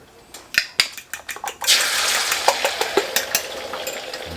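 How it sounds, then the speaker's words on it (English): Eggs dropped into olive oil in a pan, a few sharp clacks and taps followed by a steady, loud sizzle with intermittent clinks of a utensil over it. "I'm gonna put some olive oil in here. Come in here with my eggs."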